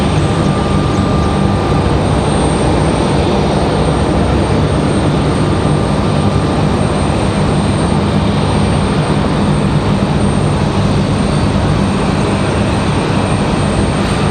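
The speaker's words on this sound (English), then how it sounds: "you're just in time for our 777-300 Turkish Airlines" Loud, continuous jet roar from a Turkish Airlines Boeing 777-300 airliner at an airport, a dense, steady rumble close by that holds level throughout with no talking.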